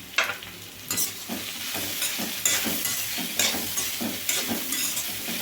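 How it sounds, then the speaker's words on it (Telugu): Bottle gourd pieces frying in a pan are stirred with a spoon, giving repeated scraping strokes over a steady sizzle, loud and close throughout. "ఇట్లా మధ్యలో ఒక్కసారి కలుపుకోవాలండి, లేకపోతే అడుగు మాడుతుంది"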